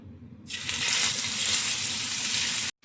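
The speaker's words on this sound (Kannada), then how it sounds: "ಆ ಫ್ರಾನ್ಸನ್ನೆಲ್ಲ ಹಾಕಿ ಫ್ರೈ ಮಾಡ್ಕೊಳ್ಬೇಕು" Turmeric-and-salt-soaked prawns hit hot ghee in a frying pan, erupting into a sudden loud, bright sizzle that holds steady and then cuts off abruptly.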